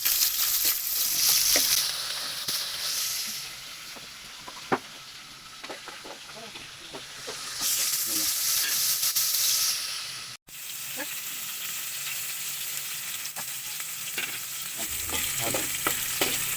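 Onions fry in a pan without garlic, a steady close sizzle and hiss with occasional stirring clicks, briefly quieter in the middle before the loud frying returns.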